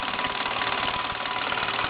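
A Meccano MEC1 model steam engine runs at a steady rapid beat, driving a lay shaft and large Meccano pulley wheel from the crankshaft; a close, even mechanical chuffing and knocking fills the whole stretch with no talk.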